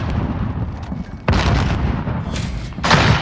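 A grenade goes off in a Call of Duty Modern Warfare multiplayer match, a loud booming blast at about a second in, followed by rumbling battle noise and another burst near the end.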